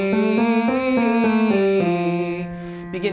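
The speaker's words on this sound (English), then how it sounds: "with the lip trill transitioning into the E vowel." A singer's lip trill sliding into a sustained E vowel during a vocal warm-up across the registers, with a steady pitched voice stepping through several notes before ending in a short breath or pause.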